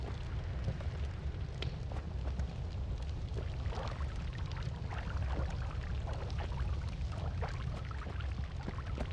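Water pours steadily from a flask in the pixel-physics game Noita, a continuous rushing, splashing stream with scattered crackles and pops throughout, close and unbroken with no talk.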